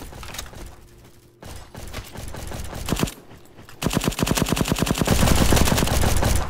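Rapid bursts of automatic gunfire from the Roblox shooter Bad Business, loud close volleys with brief pauses, swelling into sustained fire toward the end.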